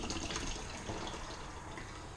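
Water runs from a sink tap fed by a heavy-duty pump taken from a Spectra water maker, a soft continuous hiss that swells and eases slightly as the pump pressure pulses.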